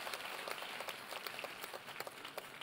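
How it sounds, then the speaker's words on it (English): A church congregation applauds the parents during a Sunday service, a steady wash of many hands clapping with dense, irregular claps throughout, fairly distant and even in level. "Let's clap for the parents."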